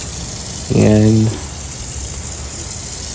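Running water splashes steadily as a potato is washed, a constant close hiss under a brief spoken word.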